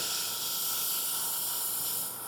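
A pump-driven paint sprayer hisses steadily and close up while coating a 3D-printed helmet, an even, broad airy rush that holds for a couple of seconds before easing slightly.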